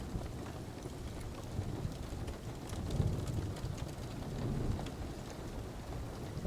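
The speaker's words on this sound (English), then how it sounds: "Each raindrop and each crackle of the logs on the fire sends" Steady rain falls in a dense, even hiss with a low rumbling undertone, swelling slightly midway. Any crackle of logs burning on a fire is hard to pick out beneath it.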